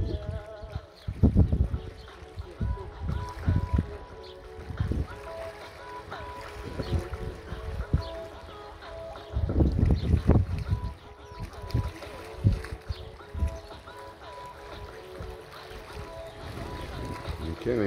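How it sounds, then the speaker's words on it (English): Ferry boat travelling off the North Shore of Bermuda on the St. George's to Dockyard route, with a steady engine drone and wind and water rushing. Occasional louder gusts or buffets come through, and voices are heard faintly over it. "So the ferry boat's getting up to where the cruise ship is."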